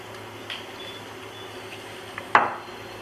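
Ackee dropped into a pot of simmering Jamaican coconut rice with garden pumpkin gives one sharp splash and clatter near the end, after a faint earlier knock, over a steady low kitchen hum.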